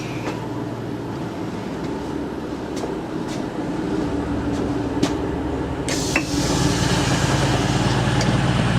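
A Class 150 diesel train, unit 150109, pulls into Bedford station on the Marston Vale line with a steady engine drone and rumble. Faint clanks and squeals cut through, and the sound swells louder toward the end.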